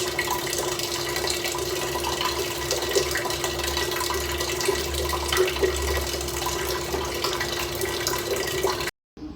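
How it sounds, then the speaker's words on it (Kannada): Waste water from a drinking-water outlet runs steadily to fill water balloons, a continuous close splashing flow with a low hum beneath it that stops abruptly at the end. "ಈ ಕಡೆ ನೀರು ತುಂಬುತ್ತೆ ಕುಡಿಯೋಕ್ಕೆ, ಇಲ್ಲಿ ವೇಸ್ಟ್ ನೀರಲ್ಲಿ ವಾಟರ್ ಬಲೂನ್ ತುಂಬುತ್ತೆ."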